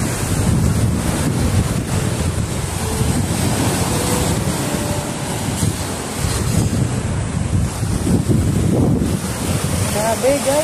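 Strong ocean waves surge and crash at high tide, a loud, continuous roar with heavy wind buffeting the microphone throughout.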